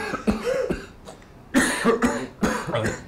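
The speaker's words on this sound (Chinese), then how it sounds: "哎，有点咳嗽。" Several harsh coughs and throat-clearing bursts come from people indoors, close and loud. They arrive in irregular clusters with short pauses between them.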